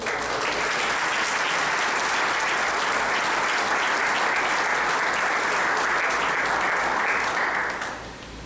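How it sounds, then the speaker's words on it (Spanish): A church congregation applauds during a doctrinal symposium: dense, sustained clapping from a crowd of many hands that holds steady for about eight seconds, then starts to fade. "Fuerte el aplauso para el Señor."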